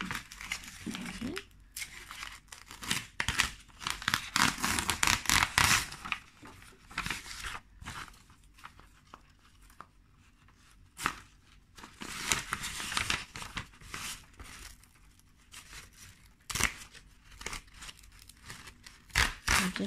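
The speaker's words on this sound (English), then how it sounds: "I'm actually gonna tear that paper away." Paper is torn away from freshly sewn fabric in a series of close, crinkly ripping bursts, separated by quieter pauses with light rustling.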